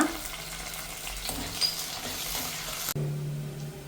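Curry leaves and green chili fry in oil in a pan for a fish curry, a steady close sizzle with faint stirring, cutting off abruptly near the end to a quieter hum.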